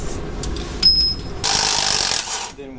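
Impact wrench removing axle bolts on a RAM 1500 rear axle, heard as a short whine and then a sustained broadband burst of rattling hammering for about a second, close and fairly loud.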